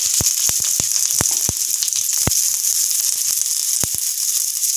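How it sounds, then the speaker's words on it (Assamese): Chopped onions fry in hot oil in a kadai, a loud continuous close sizzle broken by a series of sharp crackling pops at uneven intervals, no voices. "পুনৰ মই একেখন কেৰাহীতে অলপমান তেল দিছোঁ আৰু তেলখিনি গৰম হোৱাত ইয়াত মই কাটি ৰখা পিঁয়াজ দিছোঁ"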